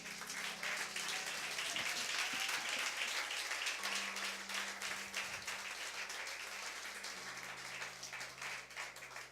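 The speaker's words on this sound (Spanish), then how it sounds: "Denle un aplauso para el Señor." A church congregation applauds, with faint, steady clapping from many people that carries on throughout, low and distant, with a sustained organ-like tone underneath.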